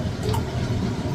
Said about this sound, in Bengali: যেহেতু আমার মাছের পরিমাণটা বেশি, তাই কিন্তু আমি জলটা একটু বেশি পরিমাণে দিলাম